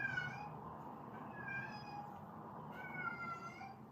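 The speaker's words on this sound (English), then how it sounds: "Sorry, my cat, by the way." A pet cat meows several times, with drawn-out, wavering cries spaced a second or so apart, fairly close over a low background hum.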